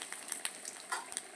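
Curry leaves spit and crackle in hot oil with mustard seeds and fenugreek, a quick burst of faint, sharp sizzling pops with no voices.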